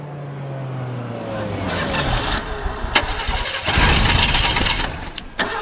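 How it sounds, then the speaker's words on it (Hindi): A car engine cranks repeatedly without catching, a whirring starter sound that stutters and sputters before stopping, with sharp clicks and knocks in between. "गाड़ी चालू नहीं हो रही सर।"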